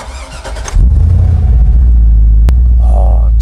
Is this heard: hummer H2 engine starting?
yes